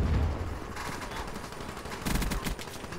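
Gunfire from a match of Call of Duty Black Ops III, a dense burst of shots with a louder spurt near the end, loud and close over a busy game soundscape with no talking.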